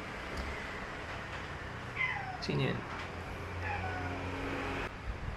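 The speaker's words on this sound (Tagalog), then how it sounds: "naputol ulit dahil sa pusa" A cat meows several times nearby, drawn-out wavering calls over a low background hum, with a brief spoken question partway through.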